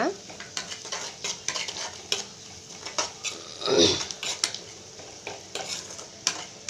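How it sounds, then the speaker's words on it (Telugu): Onions frying in a pan with turmeric and salt sizzle softly under repeated close stirring strokes, with the spatula scraping and clinking against the pan. No voice. "కొంచెం తొందరగా ఫ్రై అవుతాయి ఆనియన్స్"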